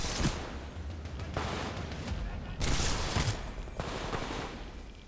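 Rapid gunfire from the video game Titanfall 2, dense bursts of shots in loud waves with brief gaps, continuous and close throughout.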